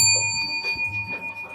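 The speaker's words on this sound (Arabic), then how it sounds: "هندوس على الجرس" A game-show answer bell on a comedy quiz program rings with a sustained bright tone and a few quick repeated strikes, close and clear.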